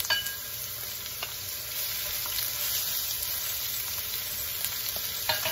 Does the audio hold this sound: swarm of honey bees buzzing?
no